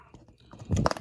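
A dog chews on a plastic Flame Toys Transformers Optimus Prime Attack Mode model kit, making a short burst of soft gnawing and crunchy bites that grows louder toward the end.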